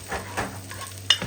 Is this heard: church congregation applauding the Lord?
no